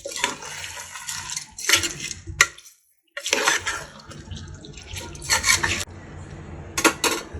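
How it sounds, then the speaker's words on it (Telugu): Rice being stirred into chicken pulao gravy in a pot, with wet, sloshing scrapes in bursts of varying strength and a brief pause partway through. "ఈ రైస్ అంతా వేసుకున్న తర్వాత ఒక్కసారి ఈ రైస్ని కూడా ఈ గ్రేవీలో కలపండి"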